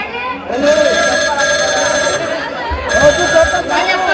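A mobile phone rings loud and close, a steady repeating ringtone running throughout with brief pulses, during a village comedy stage play.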